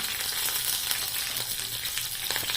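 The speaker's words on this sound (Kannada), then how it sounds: "ಎಣ್ಣೆ ಕಾದ ನಂತರ ಸಾಸಿವೆ, ಜೀರಿಗೆ, ಕರಿಬೇವು, ಮೆಣಸಿನ್ಕಾಯಿ" Mustard seeds, cumin, curry leaves and chilies frying in hot oil in a pan, a steady close crackling sizzle with fine popping, no voices.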